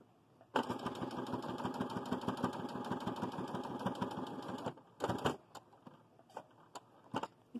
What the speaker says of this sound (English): and I sew on that edge